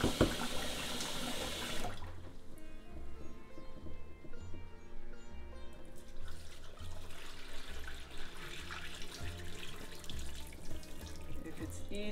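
Cold tap water rushes loudly over cooked lentils draining for a lamb dal curry, a steady hiss for the first couple of seconds before music carries on underneath.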